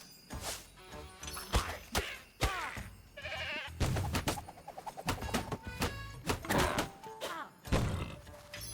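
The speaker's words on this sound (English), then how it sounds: "I'm not really a big fan of them goats." Goats in the video game The Plucky Squire give repeated loud, wavering bleats, mixed with thumps and knocks and other game sound effects in an irregular, busy rhythm.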